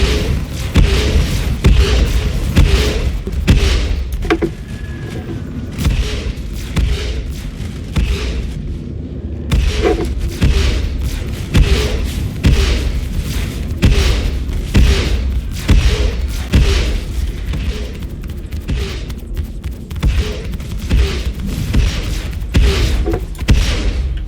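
Heavy spaceship main guns in Squadron 42 fire in repeated booming thuds at a steady rhythm, loud and close, with deep low rumble between shots.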